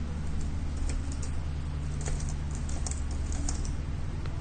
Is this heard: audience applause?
no